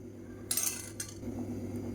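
A spoon clinks against a metal pot while a healthy homemade drink is stirred, two short bright scrapes over a steady low simmering hum.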